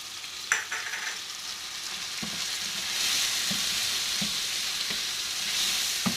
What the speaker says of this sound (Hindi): टमाटरों को हम प्याज में इस वक्त तक फ्राई करेंगे जब तक हमारे टमाटर अच्छी तरह गल ना जाए